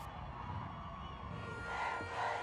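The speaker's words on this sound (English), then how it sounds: "In downtown Los Angeles, the protesters' chants echoed through the streets." Protesters chanting in the streets of downtown Los Angeles, a faint, distant crowd roar that swells slightly toward the end.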